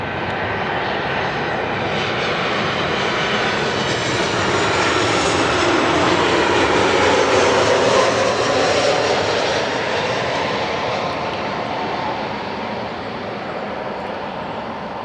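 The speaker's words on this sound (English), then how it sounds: "we've got another 737 on final." Southwest Airlines Boeing 737-800 jet on final approach to Milwaukee's General Mitchell International Airport, its engine roar swelling as it passes close and loud, then slowly fading, with no talk over it.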